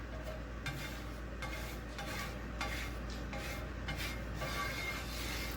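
Oil is spread around a pan for pumpkin pancakes, making soft, quiet scraping and rubbing strokes that repeat at a loose rhythm over a low steady hum.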